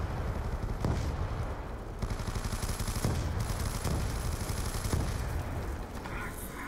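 Rapid automatic gunfire in Black Ops 2 zombies, a loud, dense stream of shots punctuated by heavier bangs roughly every second, with no voice over it.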